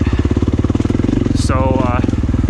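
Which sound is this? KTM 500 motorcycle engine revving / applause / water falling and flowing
KTM 500 motorcycle engine revving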